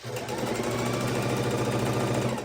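A sewing machine stitches a quilt in one steady, fast mechanical run, close and loud from start to finish.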